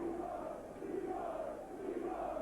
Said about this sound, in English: the crowd going wild as soon as Leroy picks up the football